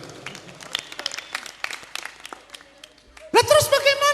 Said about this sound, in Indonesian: Tepuk tangan sekali lagi untuk Pak Miswan.